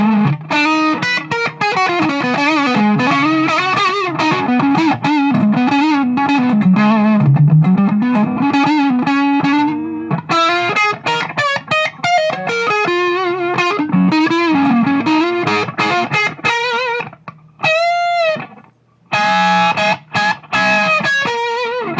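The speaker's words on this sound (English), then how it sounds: "let's go ahead and get that distortion cranked up" Electric guitar played on the neck pickup through a Boss DS-1 distortion pedal with the gain cranked, loud sustained distorted notes and bends in a continuous riff, broken by brief pauses and a few ringing chords near the end.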